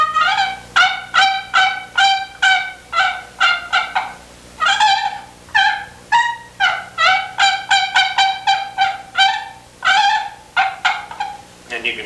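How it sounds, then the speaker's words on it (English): A turkey gobbling loudly and close, in repeated bursts of rapid, rattling calls with short pauses between them, heard alone without talk. "here's basically what a turkey sounds like."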